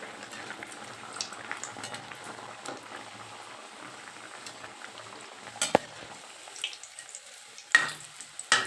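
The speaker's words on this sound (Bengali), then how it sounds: "কড়াইতে সাদা তেল দিয়েছি তেলটা গরম হয়ে গেলে একদম মিডিয়ামে দিয়ে প্যাটিসগুলো ভেজে নিতে হবে" Chicken patties fry in white oil in a wok over medium heat, giving a soft, steady bubbling sizzle with occasional sharper clinks and scrapes of a utensil near the end.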